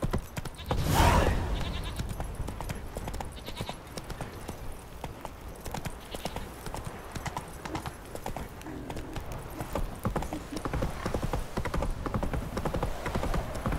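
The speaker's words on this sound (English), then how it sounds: "Run, Roach" Horse hooves galloping in The Witcher 3 video game, a continuous rapid clip-clop rhythm over game ambience, with a brief louder burst near the start and a faint animal bleat in the mix.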